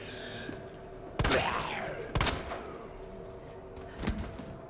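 Gunfire aimed at zombies in Resident Evil 2, set in the sewers: two sharp, loud shots about a second apart, each with a ringing tail, then a softer third report near the end.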